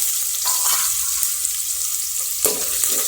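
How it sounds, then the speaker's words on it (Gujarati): Onion hitting hot oil in an Indian tempering with curry leaves, giving a loud continuous sizzle with stirring scrapes and a few sharp spatters, no voices. "હવે હું તેમાં ડુંગળી નાખી દઈશ"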